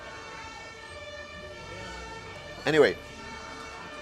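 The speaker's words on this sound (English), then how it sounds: "I think someone is not gonna, don't want to let through the ambulance, so ambulance is like very loud." An ambulance siren wails through city traffic, a short loud rising-and-falling sweep that swells up over a steady background hum of harmonic tones and road noise.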